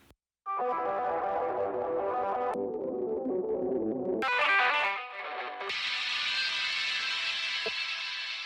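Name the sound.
guitar solo through Waves StudioRack multiband processing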